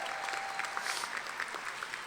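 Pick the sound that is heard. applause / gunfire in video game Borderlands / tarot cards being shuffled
applause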